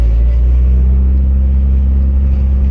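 A Mitsubishi Evo with a manual gearbox cruising slowly in second gear, a steady low engine drone and road rumble heard from inside the car, close and even with no voices.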